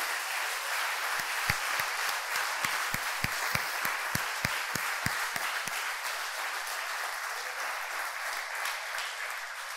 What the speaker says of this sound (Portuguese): Quem crê e recebe pode aplaudir ele por isso